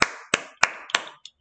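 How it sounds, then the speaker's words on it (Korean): A few sharp hand claps in a classroom setting, four evenly spaced loud claps followed by a softer fifth, close and alone with no talking. "빨리 박수 쳐. 당장 박수 쳐."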